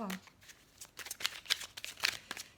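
Tarot cards shuffled for a reading, a short series of soft papery riffles and flicks close by, with a voice talking over them.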